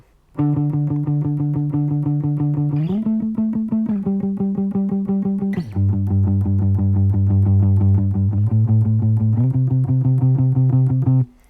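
Dry electric guitar with delay and reverb effects switched off, a steady picked pattern of sustained notes shifting through a few chord changes, loud and close with no trailing echoes, alone without talk.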